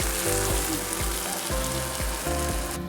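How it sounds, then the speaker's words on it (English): Food, including fish, fries on a hot surface in a restaurant kitchen at Maria's Rock Cafe in the Seychelles. Dense, continuous sizzling crackles under rhythmic clanking pulses, loud and close throughout. "So our food is actually getting cooked"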